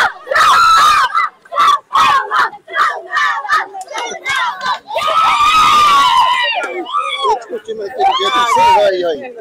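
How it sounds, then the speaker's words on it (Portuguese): São Paulo football fans at a local match roar and shout in a loud, surging crowd, with bursts of screaming and chanting rising and falling across the clip. "Olha a torcida do São Paulo aí."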